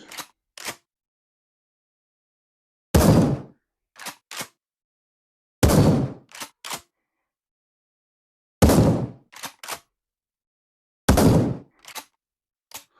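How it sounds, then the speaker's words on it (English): A gun in a VR zombie shooting game fires four times in an even rhythm, each loud shot followed by a pair of quick mechanical cocking clicks, with silence between cycles. "Here, you have to draw it, cock it again before you shoot."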